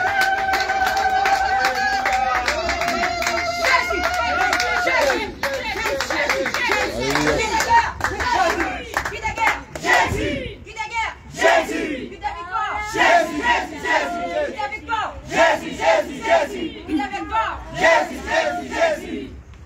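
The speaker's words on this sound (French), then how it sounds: "On acclame le Seigneur." A church congregation claps and cheers loudly in praise at a worship service, with voices shouting and singing together close by and the rhythmic clapping continuing throughout.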